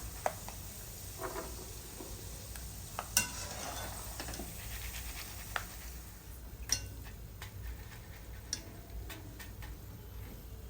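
Roasted peanuts being scooped from hot oil in a pan for murmura chiwda: a steady soft sizzle with scattered sharp metal scrapes and ticks of a spoon against the pan.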